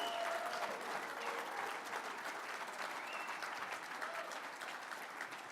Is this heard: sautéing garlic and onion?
no